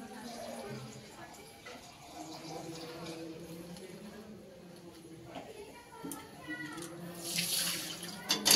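Water splashes steadily as it is poured into a spicy red mutton curry (khasir jhol) in a pot, running for several seconds beneath a voice and other background sound, with a brighter splash near the end.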